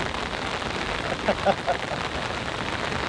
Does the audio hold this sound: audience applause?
no